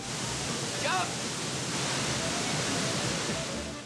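A film-scene waterfall roars as a steady, dense wash of rushing water, loud and continuous throughout, with no pause.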